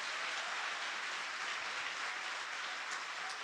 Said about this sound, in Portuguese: Tem que aplaudir mesmo.